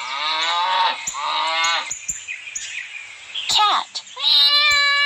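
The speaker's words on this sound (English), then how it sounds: "Cow." A cow moos in drawn-out, tonal calls, one long call followed by another, then a final rising moo, close and loud, with bird chirps scattered in the background.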